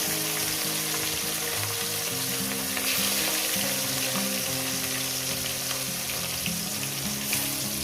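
Pieces of rohu fish frying in hot oil for a curry, a steady loud sizzle with bubbling and crackle that runs the whole time, close up, with no voices.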